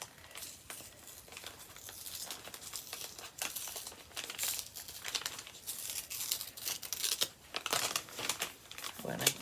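Pretty holiday gift wrapping paper being torn and crumpled at close range, a steady run of crinkly rustling broken by sharper ripping bursts, with a voice talking at times underneath.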